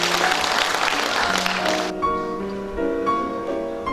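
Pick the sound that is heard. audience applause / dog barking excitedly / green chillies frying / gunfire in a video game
audience applause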